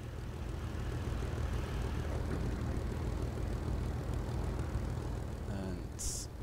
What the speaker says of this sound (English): Cut the engine just to drop as much speed as possible.